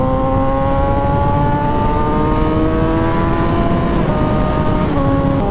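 A superbike engine pulls hard on a fast ride, its tone climbing steadily in pitch as it accelerates, loud and close under steady wind roar.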